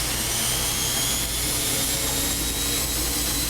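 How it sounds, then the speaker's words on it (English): A tumble action washing machine spinning its stainless steel tub, producing a loud, continuous whirring roar with a steady high whine, close by and unbroken for the whole stretch. "Your tumble action washer has a very unique sound to its spin cycle."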